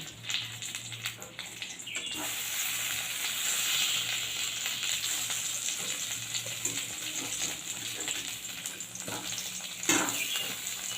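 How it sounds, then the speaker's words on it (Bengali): Pointed gourds (potol) stuffed with lentil filling frying in a pan on low heat: a soft, steady sizzle with light crackles, fairly quiet and continuous, with no talking. "কম আঁচ করে পটলগুলো আমি ভাজতে দিয়ে দিচ্ছি।"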